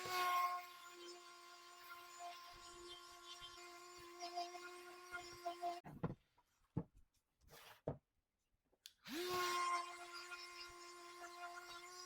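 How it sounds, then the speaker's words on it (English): A motorized sander or rotary tool grinds down the hard, crusty painted edge of an upcycled wreath, a steady whining hum that cuts out briefly around the middle, leaves a few scattered knocks, then resumes. "so I just take a moment and sand it off"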